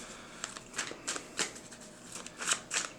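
Tarot cards being shuffled by hand, with a series of quick riffling bursts at an uneven rhythm, close and soft, no talking.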